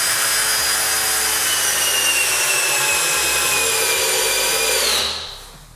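A 20V cordless drill drives a 6 x 80 mm screw into wood at low speed, a steady loud whirring drone with rising grinding strain that stops abruptly at the end.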